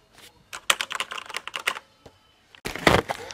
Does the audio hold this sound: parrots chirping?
no